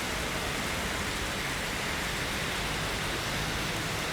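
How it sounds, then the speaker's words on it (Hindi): Heavy stormy rain pouring down on a parked car, a dense, unbroken roar of drops hammering the surface, loud and even from start to finish. "ज़बरदस्त तूफ़ानी बारिश आ चुकी है, हमारी गाड़ी भीग रही है।"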